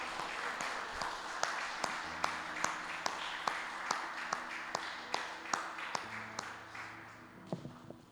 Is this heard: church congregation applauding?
yes